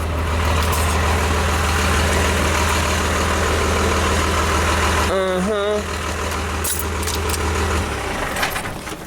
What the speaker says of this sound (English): it's just a diesel truck with a 12 valve